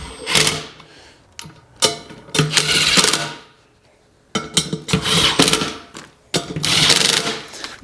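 An impact wrench drives bolts on an off-road rock crawler's wheel in several close, loud bursts of rapid hammering, separated by short pauses as each bolt is started and tightened.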